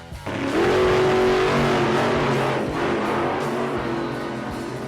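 Monster Jam monster trucks race with a loud, sustained engine roar that climbs in pitch as they accelerate, then holds steady and fades slightly, with no talk over it.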